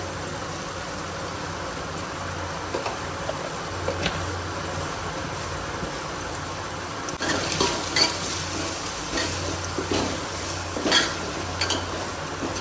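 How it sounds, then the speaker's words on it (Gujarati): Masala roasts in hot oil, giving a soft continuous sizzle with intermittent stirring scrapes and taps of a utensil against the pot, growing busier in the second half. "મસાલાને સરખી રીતે શેકાઈ દેવાનું તેલ છોડે ત્યાં સુધી"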